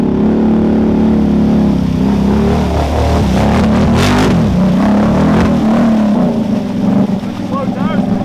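A Honda 1K side-by-side on 29.5-inch Assassin tires drives through at an off-road park New Year's bash at Busco Beach, its engine roaring loud and close with revving swells, while people talk over it.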